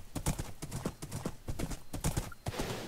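Horse hooves clip-clop in the Minecraft video game, a quick irregular series of crisp clattering steps close up, with a faint whinny mixed in and no talk.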